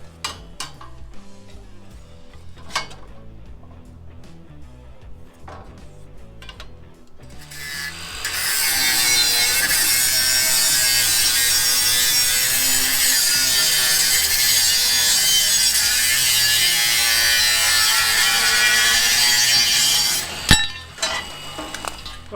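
Steel box section is cut for a trailer tyre rack: a few quiet metallic clanks first, then a loud sustained grinding, cutting roar for about twelve seconds that stops abruptly before a final sharp clank.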